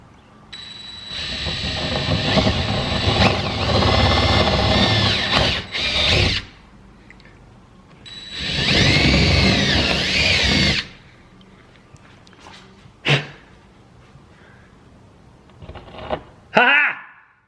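A power drill enlarges bolt holes one size up for mounting the wing of a Gen 5 ACR Viper, whirring loudly in two long bursts, then short touches and brief clatters, with a voice heard between runs.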